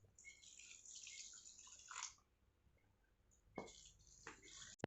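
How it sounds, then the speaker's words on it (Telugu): Hot water pours briefly into bowls, stops, then pours again after a pause, with light splashes and a final clink; otherwise quiet. "వేడి నీళ్ళు ఇందులో పోసేసుకోవాలి"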